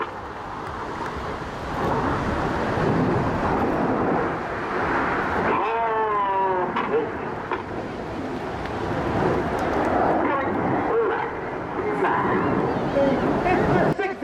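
Red Arrows jet aircraft fly the rollbacks manoeuvre at a seaside airshow in Teignmouth. A continuous, loud, broad engine roar swells and sweeps in pitch as the jets pass overhead.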